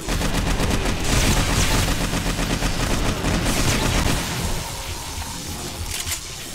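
Loud, dense automatic gunfire in 7 Days to Die, continuous close-range bursts that ease off slightly near the end while the shooting carries on.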